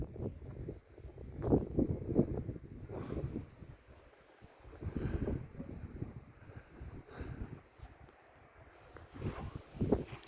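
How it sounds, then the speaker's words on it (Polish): Strong gusting wind howls around an old cabin buried by heavy snow, rising and falling in broad surges for the whole stretch with no one talking. "Trochę mniej już wieje na szczęście."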